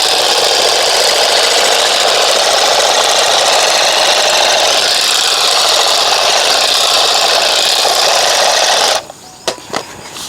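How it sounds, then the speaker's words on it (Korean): A loud, steady motorized whine of an electric lawn trimmer cutting grass along garden edges and stone steps runs continuously, then cuts off near the end, leaving a few brief clicks. "트리머로 깎아주면 굉장히 잘 깎입니다"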